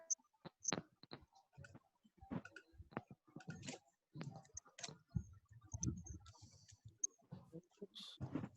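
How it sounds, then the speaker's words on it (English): Quiet typing on a computer keyboard, a run of irregular soft clicks and taps spread over several seconds with short pauses between bursts, close and faint. "I'm typing it on the chat box"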